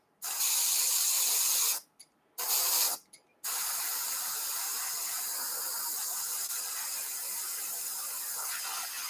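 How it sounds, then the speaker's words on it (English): Steady hissing airbrush spray while painting a 1:72 scale MiG-29 model, in three bursts, two short ones with brief pauses between, then one long continuous spray. "it does not make any unpleasant sounds from the airbrush"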